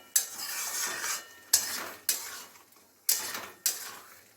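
Food being stirred and mixed in a pan while cooking peyaj posto, with five distinct scraping strokes, each a sharp attack fading into a soft sizzle, close and moderately loud with no talking.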